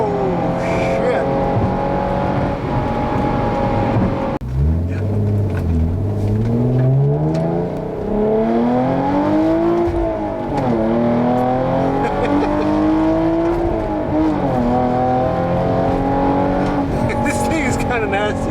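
A Hyundai Genesis 3.8 R-Spec's engine revs hard, pitch climbing and falling through repeated loud pulls over about eighteen seconds, with occasional voices in the cabin.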